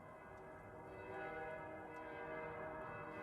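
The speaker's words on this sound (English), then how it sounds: "that is the end of day bell" An end-of-day bell rings in a stage production of A Christmas Carol, a faint, sustained church-style bell tone with rich lingering overtones, heard alone without talk.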